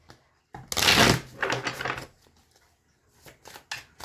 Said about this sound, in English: Gotta shuffle again because the Page of Wands wanted to come out.